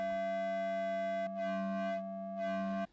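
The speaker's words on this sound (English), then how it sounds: "if we use another oscillator to interpolate between those formant values" A sustained synthesizer tone whose vowel-like color swells and fades in slow waves, shifting between brighter and darker shades while the pitch stays fixed.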